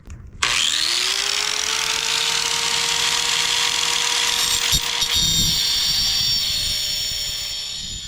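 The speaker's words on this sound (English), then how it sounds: "Let's sharpen this chain." A chainsaw chain being sharpened with a powered grinder, a loud continuous whining drone that starts abruptly and holds steady throughout, with brief grinding contact bursts.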